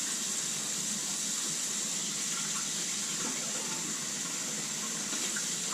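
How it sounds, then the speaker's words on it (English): Tap water running steadily into a stainless steel bowl at a chicken ranch, a continuous hissing, splashing stream at moderate level, uninterrupted and with no voices. "I just fill up our stainless steel bowl"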